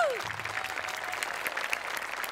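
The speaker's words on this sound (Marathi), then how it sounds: "गोस्वामी आणि आमिर हडकर आणि टीमसाठी जोरदार टाळ्या" A studio audience at a Marathi comedy show claps for a lavani song performance, producing a steady, moderately quiet wash of applause throughout.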